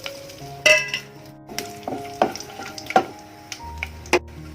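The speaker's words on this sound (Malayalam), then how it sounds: "ഇനി അതിലോട്ട് നമുക്ക് ആദ്യം കുറച്ച് സ്പൈസസ് ഇട്ട് കൊടുക്കാം." Whole spices hit hot oil in a kadai with a light sizzle and scattered metallic clinks and stirring taps, over quiet background music.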